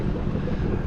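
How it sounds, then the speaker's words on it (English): Strong wind buffets the microphone at the Dreher Island State Park boat ramp on Lake Murray, South Carolina, a steady low rumbling roar filling the whole short moment with no voices. "very windy day."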